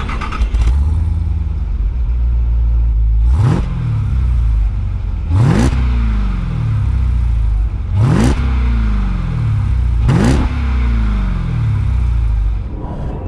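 A Jeep Grand Cherokee Trackhawk's 712 ps engine is revved four times from a loud idle, each sharp blip rising quickly and then falling back to a deep, rumbling exhaust drone close by.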